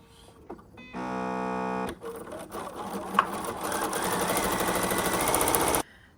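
A sewing machine stitches a narrow hem in green thread across the bottom of a shirt, a loud close whirring run starting, pausing briefly, then running steadily again before stopping.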